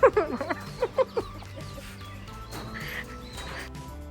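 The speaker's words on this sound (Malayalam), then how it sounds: "പിന്നെ കോഴിയാണല്ലോ." Several sharp, close chicken clucks in a quick burst, then a quieter stretch with soft background noise.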